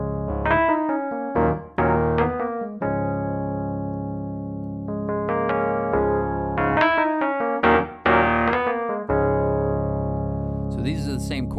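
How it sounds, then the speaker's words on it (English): An electric piano plays a funky blues intro, with rhythmic chord stabs and quick right-hand hammer-on ornaments in short bursts between sustained, ringing chords, close and clear with no voice over it. "I just play it on the electric piano, and I just do some hammer-ons with the right hand."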